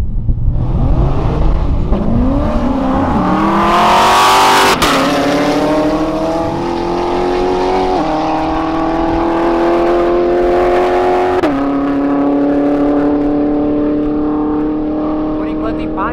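A Honda Civic Si race car accelerating hard at a speed record event, its engine climbing loudly through the gears with several sharp upshifts over a sustained, close roar.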